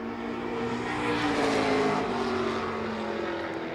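A 2019 Chevy race car, number 33, runs a qualifying lap at La Crosse Speedway, its engine rising to a loud, sustained roar as it passes and then fading, with no voices.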